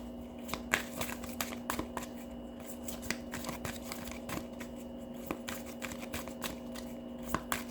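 Instinct cards being shuffled by hand, a steady run of crisp riffling flicks and soft card slaps up close, with a constant low hum behind and no talking.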